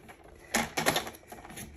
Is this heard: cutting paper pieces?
yes